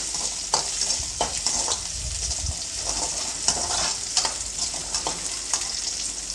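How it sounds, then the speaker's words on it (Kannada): Onion and garlic frying in hot oil for sambar, giving a steady close sizzle with a spatula stirring and scraping the pan at regular intervals throughout. "ಬೆಳ್ಳುಳ್ಳಿನ ಒಂದು ಸ್ವಲ್ಪ ಫ್ರೈ ಮಾಡ್ಕೊಳ್ತೀನಿ"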